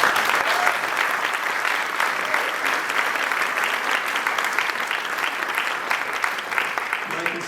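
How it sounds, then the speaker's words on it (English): Sustained applause from an audience at a celebration for a congress of Hispanic educators, dense and steady clapping filling the room for several seconds with some crowd noise mixed in. "let's give you a round of applause one more time"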